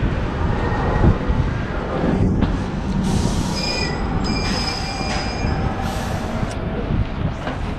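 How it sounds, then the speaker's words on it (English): Metal wheels of a passing train squeal in drawn-out high-pitched tones over a steady rumble of rail traffic on a city street in Gothenburg, loud and continuous throughout. "you can see the train in the right side"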